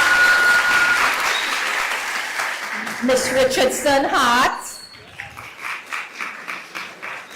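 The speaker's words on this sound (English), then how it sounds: "Let's give her a round of applause." Applause at a secondary school graduation ceremony, a broad crowd clap at first, giving way to a speaker announcing over the hall and then scattered, fading claps.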